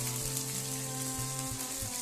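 Cumin seeds, curry leaves and broken dried red chillies fry in hot oil in a pan, a soft, steady crackling sizzle heard up close, with faint background hum and no talk.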